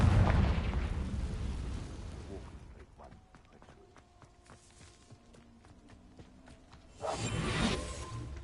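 A Confringo spell explosion in the video game Hogwarts Legacy booms loudly at the start and fades into rumbling debris, then a quieter stretch of clinks and tones, before a second strong blast and whoosh near the end.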